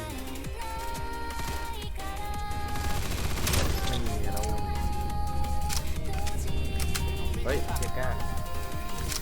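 Rapid gunfire in the Roblox shooter Aimblox while a player jumps and shoots, dense continuous bursts over game music and effects, loud throughout, with excited talking on top.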